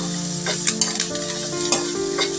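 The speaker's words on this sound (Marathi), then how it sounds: "त्याच्यानंतर आलं, लसूण, कढीपत्ता त्यात टाकायचं. ते पण चांगलं परतून घ्यायचं." Ginger, garlic and curry leaves frying in hot oil in a pan for a Malvani misal, a steady close sizzle broken by a few soft clinks and scrapes of stirring.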